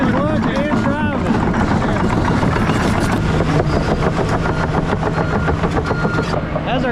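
A PC 360 excavator engine runs at a steady, loud, rumbling drone while moving a large pile of coffee grounds, and someone talks over it the whole time.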